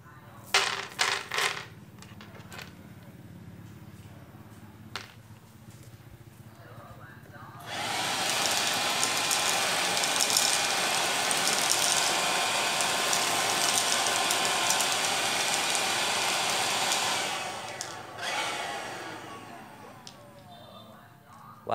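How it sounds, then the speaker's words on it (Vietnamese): A homemade vacuum cleaner sucks up 1/4 screws. A few rattling clicks come first, then the motor starts with a loud, steady whooshing whine that runs for about ten seconds and cuts off, followed by faint rattles. "Rồi hút thử mấy ốc dù 1/4 nha các bạn."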